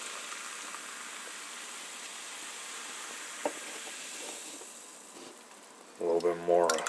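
Winter Cola orange vanilla carbonated soft drink poured into a glass: a steady soft fizzing hiss that fades slightly, then a brief louder burst of sound near the end.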